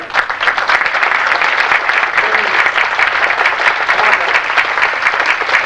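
Audience applause at an evening gala fills the room, a dense steady clapping from a crowd held at a constant loud level for several seconds with no talking.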